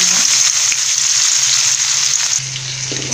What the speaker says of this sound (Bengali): পরে এর মধ্যে আমি পেঁয়াজ দিয়ে দিলাম